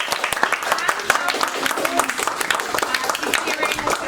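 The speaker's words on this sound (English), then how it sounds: "let's give them a clap to say well done for coming here and presenting" An audience at an IB graduates' presentation event applauds steadily for about four seconds, dense overlapping hand claps filling the room with no talk over them.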